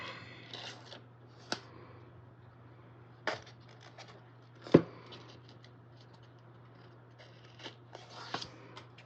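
Scissors cutting planner paper in a quiet room, a few separate short snips and rustles spread apart, one louder cut near the middle, over a steady low hum.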